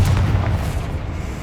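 A fiery Confringo spell blast in the Hogwarts Legacy video game, heard as a loud, deep rumbling boom that fills the whole moment and stays dense without fading.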